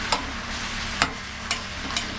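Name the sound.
tomatoes being stirred and sautéed in a pan for pickle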